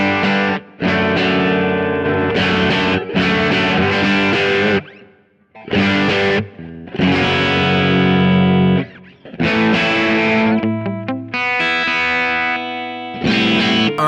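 Electric guitar played through a JTM amp model on a Kemper or Axe-FX rig, loud distorted chords and riffs in bursts separated by short silences, with ringing sustained notes and a few single-note lines.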